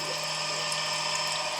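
A Schaublin machine's coolant pump runs with a steady hum while a constant stream of coolant pours and splashes in an even, unbroken wash.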